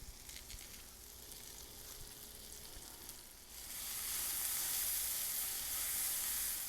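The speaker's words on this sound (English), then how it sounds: "In the same skillet that I fried the steak, I'm going to add these shallots." Shallots sizzle in the skillet used to fry steak, a steady frying hiss that grows louder and brighter partway through and then holds close and continuous, with no voices.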